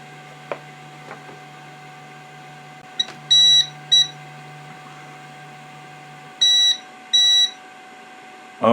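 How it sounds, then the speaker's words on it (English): Qidi Tech Shadow 5.5s resin 3D printer beeping: four short, sharp electronic beeps in two pairs, close and clear over a faint steady hum, with a few soft clicks. "Okay, it's beeping at me."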